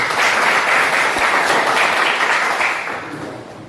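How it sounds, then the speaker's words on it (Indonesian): An audience applauds after a group discussion presentation in a teacher training session, loud continuous clapping that holds steady and then fades toward the end. "Ya, berikan tepuk tangan."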